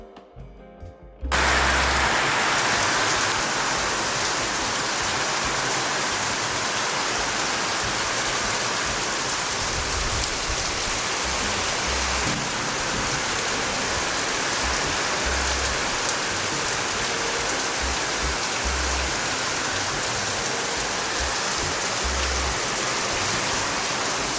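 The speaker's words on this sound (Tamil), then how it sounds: "கரு கருன்னு கருமேகம்லாம் இறங்கி செம்ம மழை வந்துச்சு" Heavy rain on a farm falls in a steady, loud, dense roar for over twenty seconds, with no voices over it.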